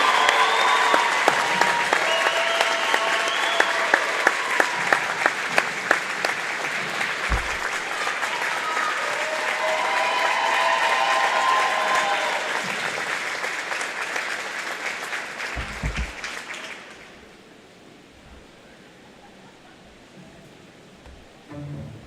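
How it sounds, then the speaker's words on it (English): Sustained loud clapping from a large crowd at a girls basketball game in an indoor arena, with occasional cheers, fading abruptly to a quiet room murmur after about seventeen seconds. "Please join us in a round of applause as Activities Director Lee Rude"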